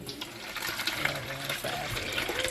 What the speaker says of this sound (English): I'm gonna put a little water in that pan.